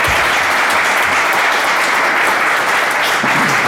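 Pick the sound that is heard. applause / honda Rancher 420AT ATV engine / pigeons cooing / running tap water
applause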